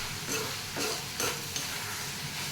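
Coriander seeds roast in a pan for a ridge gourd (dosakaya) pachadi, a low dry sizzle with a few soft scraping stirs about every half second, close up and with no talking.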